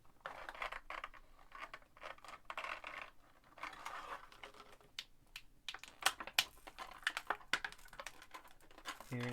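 A plastic wireless earbuds charging case, resembling a Samsung Galaxy earbuds case, snaps open and shut in a series of close, sharp clicks over faint room tone.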